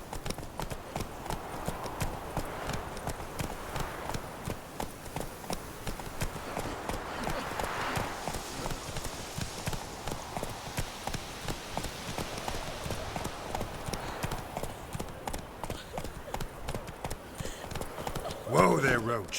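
Steady, rhythmic hoofbeats of the horse Roach carry on throughout in The Witcher 3, loud and close, with a voice speaking over them and a brief louder thump near the end.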